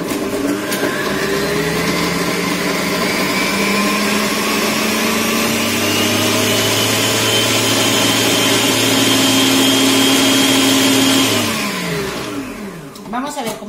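A Mambo kitchen robot blends lemon peel for lemon ice cream, a loud steady motor whir rising in pitch as the speed climbs from 8 toward 10, running continuously for about eleven seconds before winding down.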